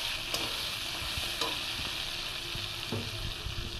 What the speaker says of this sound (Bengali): এবার ওটা আমি টমেটো তুলে দেবো, দিয়ে টমেটোটা ভাজবো।